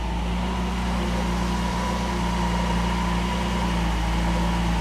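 A 1969 Mercedes 280SE engine runs steadily at idle, a constant low mechanical hum with a faint fan-like whir, close and even throughout with no talking.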